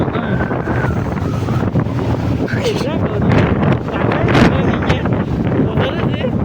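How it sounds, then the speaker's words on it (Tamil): Strong wind buffets the microphone at a hillside viewpoint, a steady loud roar and rumble throughout, with voices talking over it. "என்ன காத்து பத்தியா?"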